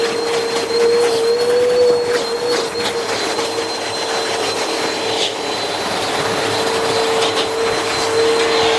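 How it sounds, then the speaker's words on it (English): A vacuum cleaner runs steadily on an upholstered chair during low-moisture chair cleaning, a loud continuous motor whine with a fixed tone throughout, with no talk. "Spend more time vacuuming."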